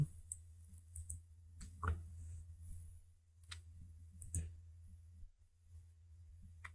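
A computer mouse clicks quietly and sparsely while someone edits in Canva. A few soft, separate clicks stand over a low, steady hum.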